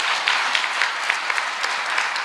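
Audience applause at a Tamil association's Chithirai festival event in New Jersey, continuous moderate clapping with scattered sharper individual claps standing out, steady throughout without speech.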